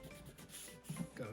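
Oil being rubbed by hand into the sanded surface of an end-grain oak cutting board, a soft, close, continuous rubbing and smearing with a few slightly louder strokes near the end.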